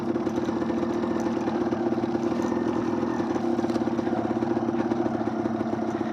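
A 1993 Yamaha DT175 two-stroke motorcycle engine in the Australian bush runs in a steady, buzzy mid-pitched drone with a rapid clattering pulse, held at an even level throughout.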